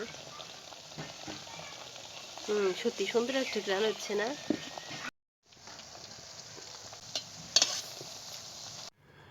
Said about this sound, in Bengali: সবগুলা উপকরণ খুব ভালো করে ভাজা হয়ে গেছে